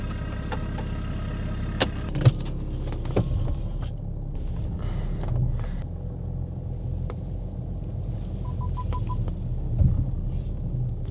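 A BMW 335d diesel car on the move, its engine a steady low rumble heard from inside the cabin, with a few sharp knocks and clicks and faint interior noises along the way.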